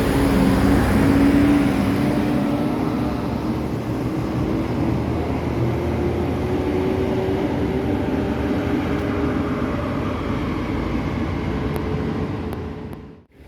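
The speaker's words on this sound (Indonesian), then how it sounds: "masuk lagi bus NPM ya yang akan menuju kota Medan" An NPM T27 New Selection bus bound for Medan pulls into a bus terminal with a steady, loud engine drone and a slowly rising whine, before cutting off abruptly at the end.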